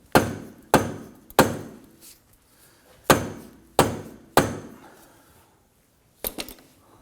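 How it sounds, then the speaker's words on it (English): Heavy, dull thuds from a rubber mallet striking the rear suspension of a 2003-2014 Volvo XC90 3.2L, six sharp blows in irregular groups with short ringing decays, then two quicker taps after a pause. "By using our rubber mallet,"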